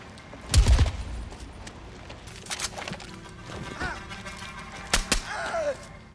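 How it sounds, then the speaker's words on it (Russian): Suppressed gunfire in the video game Call of Duty: Black Ops Cold War, a few muffled shots spaced across several seconds, with the loudest burst near the start and a couple of sharp later reports. "однако в релизе пальба звучит так, будто на оружии стоит глушитель."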